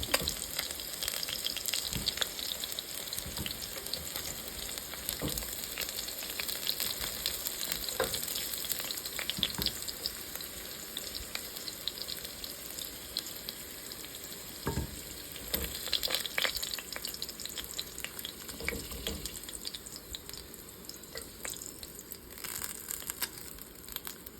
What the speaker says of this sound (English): now that the ribs are well browned, I'm going to remove them from the pot